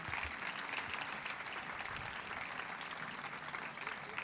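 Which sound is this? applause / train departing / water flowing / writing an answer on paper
applause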